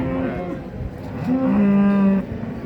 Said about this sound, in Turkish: Erkek dana.